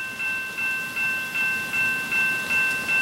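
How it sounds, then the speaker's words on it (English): An N scale model train runs past on its layout track, a close, steady electronic tone pulsing in an even repeating rhythm over soft mechanical running noise, with no voices. "we'll just sit here for a second, watch the train go by again"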